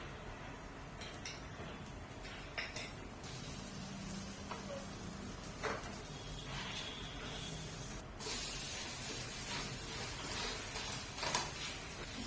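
A small tomato omelette fries in a pan with a soft, steady sizzle and hiss that runs throughout. Faint scrapes and clinks of a spatula come and go.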